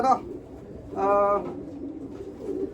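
Racing pigeons in a one-loft race loft coo before feeding: a short coo, then a clearer, louder coo, followed by softer murmuring calls.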